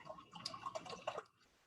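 Two cups of seltzer water poured into a container for a kids' juice drink, a soft fizzing, trickling liquid sound with small drips, fairly faint and close, tapering off near the end.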